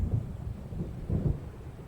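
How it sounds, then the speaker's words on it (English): Low, rolling thunder from an approaching storm in a video game, rumbling in two soft swells at a distance with no other sounds. "It seems there's a storm coming."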